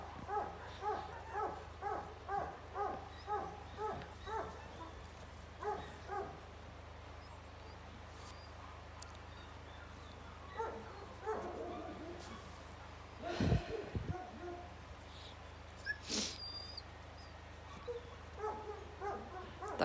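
Rapid rhythmic yips from puppies repeat in bursts, pausing now and then, with a louder thump and faint voices partway through.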